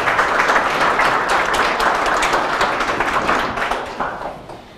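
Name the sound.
audience applause welcoming guest speaker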